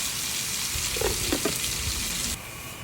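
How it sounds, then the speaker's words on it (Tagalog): Eggplant sautés in a pan, giving a steady loud sizzle with a few brief stirring scrapes near the middle. The frying drops slightly in level just before the end. "Ginisang talong ang ulam namin."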